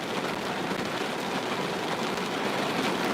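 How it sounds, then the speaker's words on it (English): Heavy rain pouring down at night, a steady, dense hiss of falling water that stays loud and unbroken throughout. "It's raining hard."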